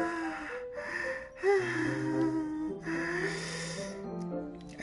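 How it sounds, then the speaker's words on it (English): In the game Doki Doki Literature Club Plus, a character draws sharp, breathy inhales through the teeth. The airy gasps rise over sustained, eerie background tones, with no one speaking. "A sharp inhale, like someone is sucking air through their teeth."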